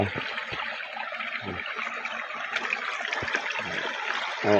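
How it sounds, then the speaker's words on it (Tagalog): Strong water rushing and flowing steadily, a broad hissing torrent close by, with occasional low thumps and a faint voice underneath. "Kusog ang tubig niya diri"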